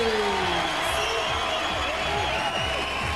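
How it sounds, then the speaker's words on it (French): A studio audience at a French M6 television dance show cheers and applauds in a dense, loud, continuous roar, with whoops and whistles rising above it. "je voudrais une acclamation, un tonnerre d'applaudissements de votre part"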